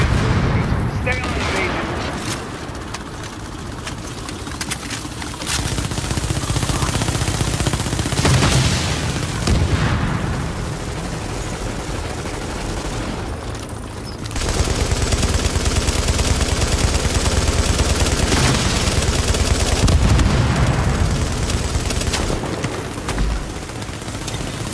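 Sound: gunfire in The Division video game

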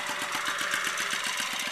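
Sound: Yamaha Yamahopper moped engine running

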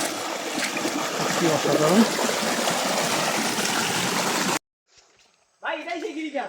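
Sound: flowing stream water

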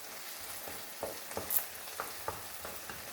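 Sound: tomato paste being stirred and fried in a pan

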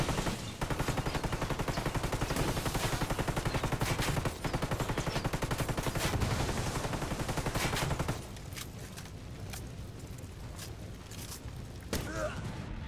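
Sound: gunfire in video game Ghost Recon Wildlands

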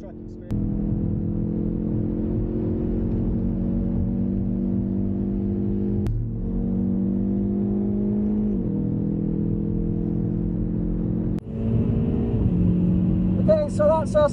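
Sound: hot hatchback car driving laps on Nürburgring track

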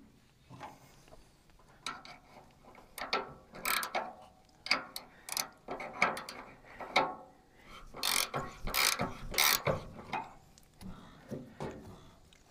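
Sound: tightening a jam nut with a wrench

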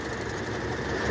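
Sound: 1994 Fiat Uno Mille Eletronic engine running

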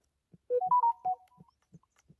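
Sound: phone notification sound

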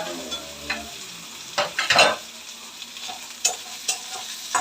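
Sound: onion sizzling while frying for mushroom fry

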